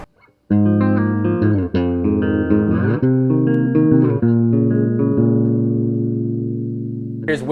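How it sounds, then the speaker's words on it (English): Clean electric guitar with no drive pedal engaged: a few ringing chords and notes, each left to sustain and slowly fade, played alone and fairly loud with no talking. "So here's my clean tone."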